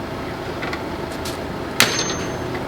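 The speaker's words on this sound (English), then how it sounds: "So that's why I just knock it out with the hammer." A hammer knocks a suspension bushing sleeve out of a rear knuckle on a Nissan S13 240SX, one sharp metallic strike standing out over a faint background, with a few softer taps before it.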